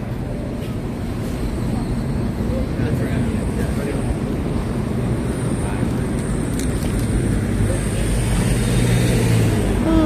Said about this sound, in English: The whole streets are blocked by cars.